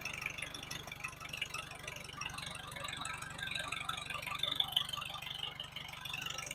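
A Farmall H tractor engine idles low and even after a fuel mixture adjustment. It gives a steady, fast chugging pulse with a light mechanical rattle, heard from close by.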